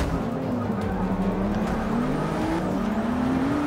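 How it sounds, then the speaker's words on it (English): A car engine in the racing game Forza Motorsport 6 drones steadily and loudly, its pitch rising and dipping slightly as the car accelerates and eases off. "Car sounds cool"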